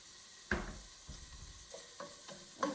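Onions and red pepper flakes frying in a pan, a soft steady sizzle with a few brief stirring scrapes and clatters, fairly quiet and close, no voices.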